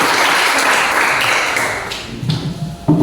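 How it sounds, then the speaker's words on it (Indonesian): A group in a classroom lesson claps briefly, a burst of applause that tapers off into scattered taps and thumps. "Iya, tepuk tangan."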